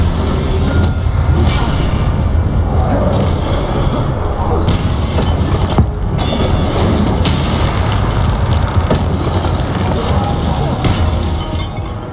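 Fire spell cast amid magical combat in the video game Hogwarts Legacy, a dense, loud stream of whooshing bursts, crashes and booms that runs without pause, with game music and effects layered together throughout.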